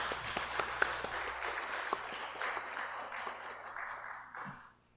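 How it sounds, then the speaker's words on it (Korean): A church congregation applauds during a Sunday worship service, a steady wash of many hands clapping at moderate distance that tapers off toward the end. "우리 소망속에게 다시 한번 축복의 박수 드리도록 하겠습니다"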